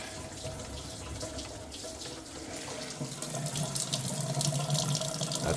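A sink faucet with no aerator runs in a bathroom with a cracked sink basin, giving a steady close splashing rush of water that swells slightly louder partway through.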